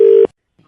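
A single steady telephone line tone sounds loud and close for about a quarter second after a call, then cuts off abruptly into near silence, with a faint low murmur near the end.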